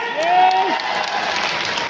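Audience clapping throughout an indoor stadium celebration in Delhi, a steady broadband wash of many hands, while a brief tonal voice or whistle slides through early on.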